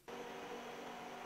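A pump starts abruptly and runs with a steady whooshing, whirring drone while hoovering salt debris from the floor of a saltwater swimming pool, faint and continuous with no voices.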